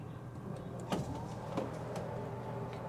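A DAB EsyBox water pump runs after its pressure is set, giving a quiet, steady motor hum with a few soft clicks and faint whine throughout, heard alone.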